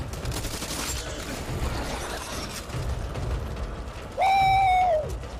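Gunfire crackles through a zombie shooter video game in a dense, noisy mix. A steady tonal whine rises near the end.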